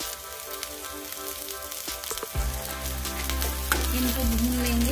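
Green chillies, added with ginger-garlic paste and onions for a cauliflower dish, frying in a pan: a soft hiss swells into a loud, steady close sizzle halfway through, with light stirring clicks.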